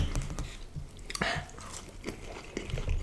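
A burger is chewed slowly and very close, with faint, soft wet munching and a few small crunches spread over the clip.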